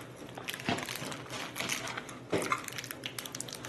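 A box being opened as plastic packaging crinkles and crunches in quiet, uneven bursts, with a few sharper snaps among the rustling.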